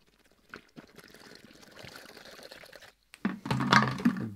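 Water is poured into a bucket to mix a hand-casting batch, a soft trickle that builds into a louder, gurgling splash toward the end, with no talking over it.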